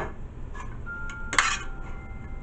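A pan clinks and clatters on the stove while a cheese wrap is cooked with no oil, with a few light metallic knocks and one sharper clank standing out over a quiet kitchen background.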